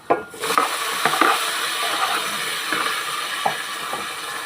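Meat frying in a pan for dinuguan gives a steady, dense sizzle. Occasional clicks from a stirring utensil and the pan sound through it, with no talking.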